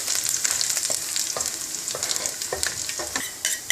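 Julienned ginger sizzling in hot oil in a pan over low to medium flame while preparing mutton keema and liver, a steady bright crackle with repeated scraping stirs at close range and no voices.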